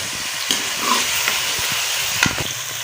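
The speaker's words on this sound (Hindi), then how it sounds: "ये हमारा चिकन फ्राई हो चुका है" Chicken fries in a pot with a loud, steady sizzle while a spoon stirs it, adding occasional scraping knocks, close up and continuous with no talk.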